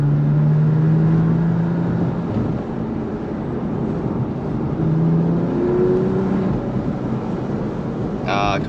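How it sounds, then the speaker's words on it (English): A BMW M4 with a titanium exhaust drones steadily from inside the cabin while cruising, with a low rising pull and a few faint burbles. Near the end comes a brief crackle. "I'm gonna try and get a decent little pull and some burbles."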